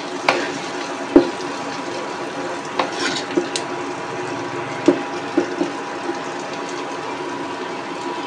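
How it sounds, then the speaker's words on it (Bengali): Small shrimp fry over low heat with onion, chili and garlic, giving a constant crackling sizzle with scattered clicks and taps of a utensil against the pan. No voices are heard. "কুচো চিংড়িগুলো ভাজা হয়ে গিয়েছে।"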